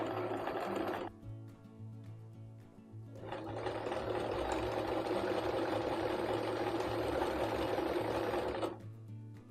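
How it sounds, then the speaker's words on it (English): A sewing machine piecing a quilt runs in a steady, close hum, stopping briefly after about a second and then starting up again for a long continuous stretch. "So we're just gonna keep on keeping on the sewing."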